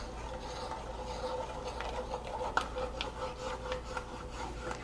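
A utensil scraping browned butter across the bottom of a hot pan while making brown butter chocolate chip cookies, a continuous gritty rubbing with a few sharper scrapes, close and moderately loud, no talk.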